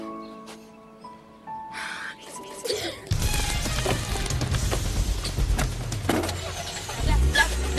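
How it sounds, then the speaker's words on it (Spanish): Car engine revs up and the vehicle pulls away loudly after a quieter opening with background music, followed by a sustained rumbling drive. "¡Subí al auto, Marco!"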